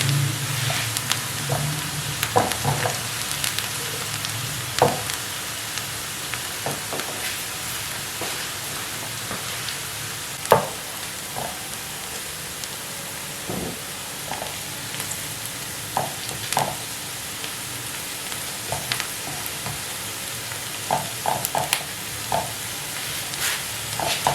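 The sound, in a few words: onions frying in a pan for an omelette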